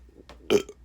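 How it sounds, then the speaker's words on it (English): A single short, close burp from a man, loud and alone with no talking around it. "I burped."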